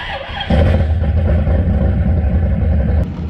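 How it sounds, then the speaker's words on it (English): A 450 hp LS V8 swapped into a Nissan 350Z catches and roars up loudly and close, holding a rough, deep, throbbing idle-rev for a few seconds before easing slightly. "first time starting up the LS swap"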